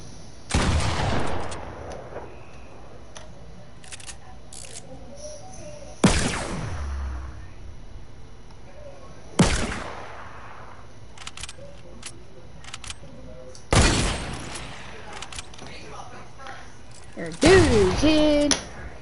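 Pump shotgun blasts in Fortnite, five sharp reports spaced a few seconds apart, each with a short ringing tail, over quiet game ambience with faint clicks and rattles between shots.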